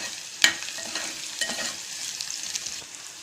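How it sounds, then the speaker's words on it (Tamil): Garlic and a bay leaf sauté in a hot pan, with a steady soft sizzle broken by a few sharp stirring scrapes, including one crisp clack near the start; no voices. "பூண்டு சேர்த்து நல்லா வதக்கிக்கோங்க. இப்போ பிரியாணி இலையை சேர்த்துக்கோங்க."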